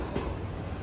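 A coach of the Sabari Express passenger train rolling past at Palakkad Junction railway station, a brief, steady low rumble with a faint metallic clack, heard close and alone.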